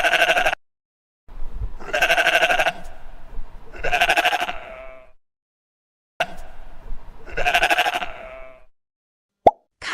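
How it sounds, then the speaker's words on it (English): A sheep bleats loudly and close up in three long, wavering calls spaced by short silences, with a brief sharp click near the end. "Sheep."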